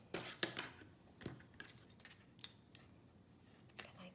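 A few quiet, crisp snips of scissors cutting thread close by, with faint handling rustles between the cuts.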